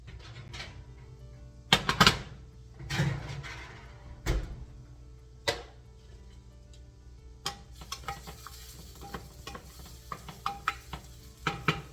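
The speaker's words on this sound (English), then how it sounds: "So my beets are really sizzling in here, and they're turning a dark red." Soft frying sizzle of beets in a pan, broken by sharp scrapes and clinks of a utensil stirring, with no one talking.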